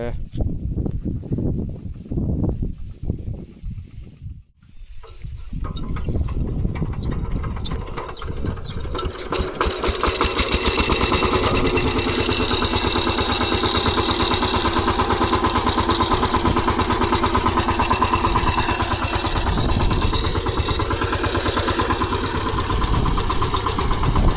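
A farm tractor running at night: a person talks over a low rumble at first, then the engine settles into a loud, even, continuous idle-like drone close by.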